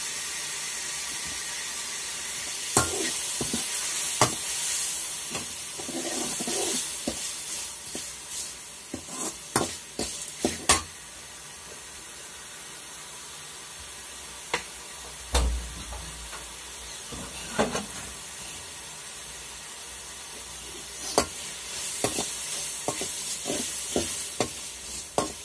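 Tomatoes frying with salt and turmeric for a village-style egg curry give a fairly quiet, steady hiss, broken by scattered clinks and scrapes of stirring.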